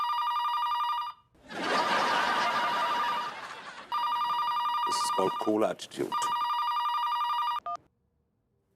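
A telephone rings loudly and insistently indoors, its electronic trill pausing while people talk over it, then starting up again before cutting off near the end.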